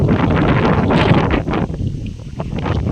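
Cool wind sweeps across open rice fields, buffeting the microphone with a loud, continuous rushing roar that dips slightly toward the end, with no voices present.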